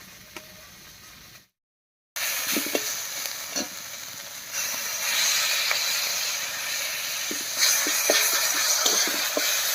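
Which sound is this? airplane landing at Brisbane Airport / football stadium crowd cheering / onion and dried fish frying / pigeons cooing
onion and dried fish frying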